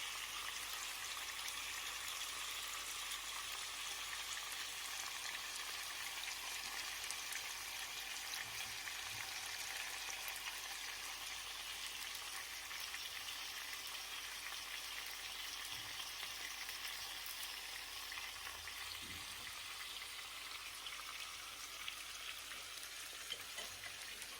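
Pumpkin cubes fry in a pan as onion and garlic go in, a steady broadband sizzle running unbroken throughout with faint soft clicks and no voices.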